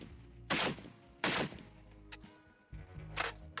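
An AK 50 rifle fires three heavy, booming shots at uneven intervals, loud and close, each blast ringing out briefly before a quieter thump between them.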